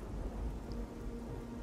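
Steady rain with a low rumble of thunder in the fantasy video game Oblivion, a continuous wash of falling water that stays even and fairly loud throughout, with no voices.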